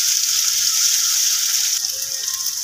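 Tomatoes fry in a pan for dhaba-style anda ghotala, a loud, steady, close sizzle and crackle with no pauses and no speech over it.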